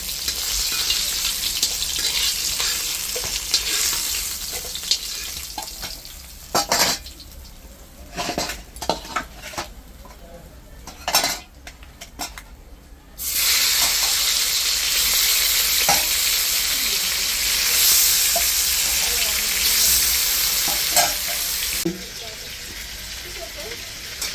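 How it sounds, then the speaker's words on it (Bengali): Rohu fish frying in a pan, a loud steady sizzle broken by clatter of a spatula stirring and scraping metal, with brief pauses of quieter handling midway before the hiss returns fully. "সব মাছই ভাজা হয়ে গেছে।"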